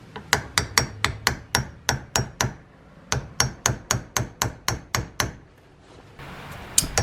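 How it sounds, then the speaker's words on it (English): Repeated light hammer taps on a seized brake caliper bleeder screw, two bursts of about ten evenly spaced sharp metallic strikes separated by a short pause, close and clear with no talking. "I'm fairly gently tapping this in both directions."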